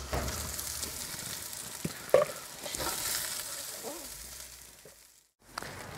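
Schupfnudeln fry in a Dutch oven on a Big Green Egg, giving a steady close sizzle with a few scraping stirs. The sizzle fades and drops out briefly near the end before resuming.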